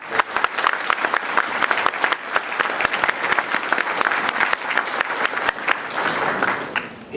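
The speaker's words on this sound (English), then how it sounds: "We can give them all a round of applause." A sizable audience gives a sustained round of applause for students at an award ceremony, dense close clapping that holds steady for several seconds before tapering slightly.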